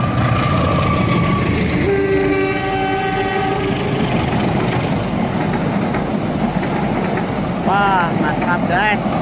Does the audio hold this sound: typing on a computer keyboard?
no